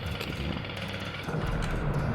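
Steady grinding, rattling drill chewing through rock in the PS1 game Lego Rock Raiders, a continuous buzzing mechanical churn at even loudness with no breaks.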